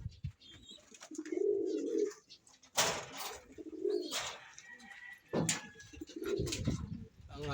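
Pigeons coo in the young-bird section of a breeder loft, several soft, throaty bursts close by, separated by brief pauses, with a few sharper rustles and clatters between them.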